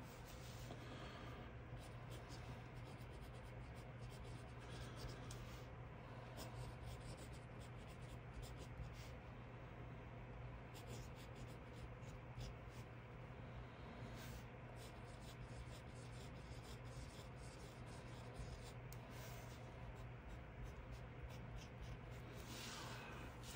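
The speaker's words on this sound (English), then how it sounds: "So some quick writing samples of these pens." A Kaweco Sport fountain pen in Fox colour with a smooth nib writes on paper, giving a steady, close scratching rub with short strokes and pauses over a constant low background hum.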